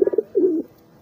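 A plontang racing pigeon coos close by, a quick string of soft throaty pulses followed by one longer rolling coo, then quiet.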